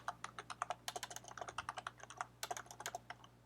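Rapid typing on a computer keyboard while building a web dashboard, with a quick, uneven run of crisp close key clicks and a brief pause partway through over a faint steady hum.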